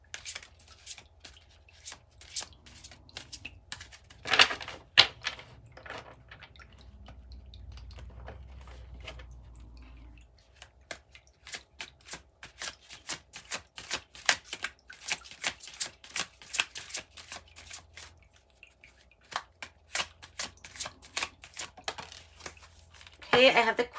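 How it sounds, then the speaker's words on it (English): A deck of tarot cards is shuffled by hand in repeated crisp riffles and flutters, fairly close, with soft handling noises and brief pauses between passes. "Let's pull them, shuffle them like this."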